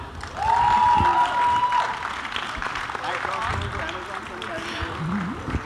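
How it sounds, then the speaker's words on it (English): An audience bursts into applause for the Amazon family at a media photo op, loud clapping swelling at the start and then tapering into a lighter patter, with a voice briefly heard over it. "Let's hear a huge round of applause for them."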